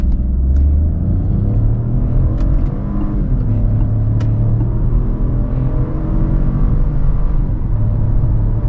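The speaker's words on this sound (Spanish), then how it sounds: "la esencia de este ejercicio es que escuches cómo suena este motor cuando pisamos el acelerador a fondo" A 2024 Peugeot 2008 at full throttle gives a loud, steady engine drone with rising tones as it pulls hard, heard from inside without talking.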